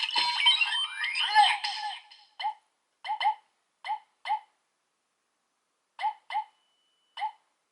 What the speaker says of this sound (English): the most significant thing is that you get those beeping sounds at the end